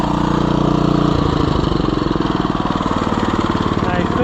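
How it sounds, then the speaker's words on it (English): A petrol snowblower engine runs close and loud, first a steady idle, then a faster rhythmic chugging after about a second, continuing without a break. "snowblower."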